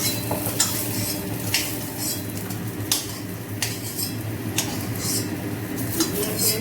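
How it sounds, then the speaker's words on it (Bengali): Fried potatoes lifted out of a hot pan of oil while making Bengali-style chicken curry, with steady sizzling and repeated scrapes and clinks of a metal utensil against the pan. "আলুগুলো এরকম লাল লাল করে ভেজে নিয়েছি, ভাজা হয়ে গেছে। আলুগুলো সব তুলে নিই।"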